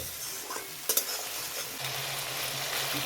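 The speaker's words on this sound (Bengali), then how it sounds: "এবার সব মশলাগুলোকে আমি ভালোভাবে কষিয়ে নেব" Spices with turmeric and salt frying and being stirred in a pan for a taro-stem and snakehead fish curry, a steady close sizzle with a couple of sharp scrape knocks early on.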